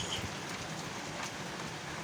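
Steady rain falls on a village garden plot after a barley threshing, a continuous dense hiss with no voices over it.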